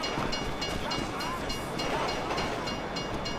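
A train rumbles past in Grand Theft Auto V, a steady, loud broadband roar with faint rattling that holds for the full few seconds without a break.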